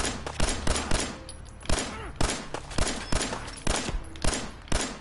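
Gunfire from the video game Fallout 4 during a bandit fortress fight, about a dozen loud, sharp shots in an irregular rapid sequence, close and punchy with short decaying tails.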